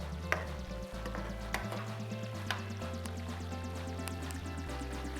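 Ingredients being fried in a pan, giving a soft, steady sizzle with a few sharp clicks and taps of a utensil, set against a low droning hum.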